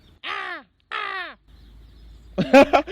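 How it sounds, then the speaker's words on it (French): Two loud, harsh caws from a crow, each about half a second long with a short pause between them, followed by a person speaking nearby. "Je parle avec les corbeaux."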